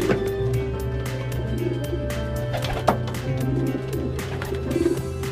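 Racing pigeons coo in a loft, soft repeated calls over a low hum with a few sharp knocks and wing flutters nearby.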